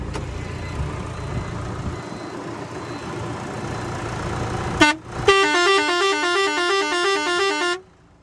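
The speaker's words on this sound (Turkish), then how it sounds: "Evet şimdi kornamıza basalım." A Hattat 285S tractor's rumbling engine idles, then a newly fitted, loud, warbling multi-tone air horn blares for nearly three seconds before cutting off abruptly.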